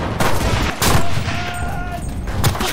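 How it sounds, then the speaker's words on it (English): A flak turret in the wartime shooter Enlisted fires on infantry in a loud, close, rapid volley of heavy booming shots, with a voice briefly audible underneath. "I'm using the flak turret on infantry."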